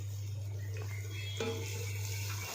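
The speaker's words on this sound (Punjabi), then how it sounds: "ਹੁਣ ਆਪਾਂ ਗ੍ਰੇਵੀ ਬਣਾਉਣ ਵਾਸਤੇ ਇਹ 'ਚ ਗਰਮ ਪਾਣੀ ਪਾਵਾਂਗੇ" Hot water poured into a pan of cooking desi chicken to make gravy, a steady close pour over a constant low electrical hum.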